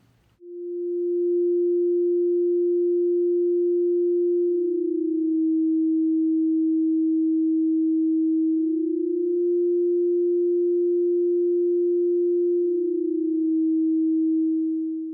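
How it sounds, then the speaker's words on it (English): Two steady sine test tones at 320 and 350 hertz alternate, each held about four seconds, loud and continuous with no other sound, used to compare pitch before plugging in Gary Clark Jr. GCJ-95 Cry Baby wah pedals. "Listen to the tone difference between 320 and 350 Hertz."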